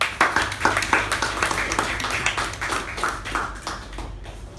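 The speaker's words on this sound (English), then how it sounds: "with a huge round of applause, please welcome the President, Toastmaster Gaurav" Toastmasters meeting audience clapping to welcome the club president, a modest group applause with distinct individual claps, fairly close and gradually fading, over a low steady hum.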